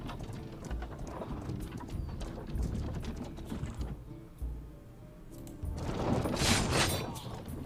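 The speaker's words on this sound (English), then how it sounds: "Check out our cool horse." Horse hooves clip-clop steadily in the strategy video game Humankind, a repeated rhythmic trotting set against a busy bed of battle noise and clatter, fairly loud throughout, easing briefly midway before swelling again.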